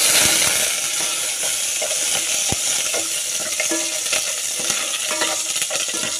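Mussels cook in a pan with a steady, loud sizzle and hiss throughout, broken by occasional light clinks and scrapes of stirring.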